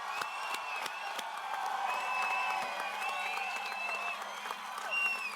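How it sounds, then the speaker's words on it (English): Crowd cheering, whooping and applauding at a university engineering ring ceremony, a sustained roar of many voices swelling at the end and heard at moderate loudness in a large hall. "the part in the script where it says make the crowd roar"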